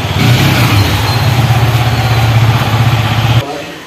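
A repaired Yamaha MT-15 BS6 motorcycle engine runs at a steady idle close by, a continuous low throb that holds for about three and a half seconds before cutting off abruptly, with no talk over it.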